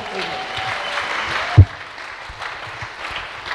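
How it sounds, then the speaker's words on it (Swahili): A church congregation at a revival service clapping for Jesus, a broad wash of crowd applause with a sharp thump partway through, fading to scattered claps while people talk. "pigia Yesu makofi"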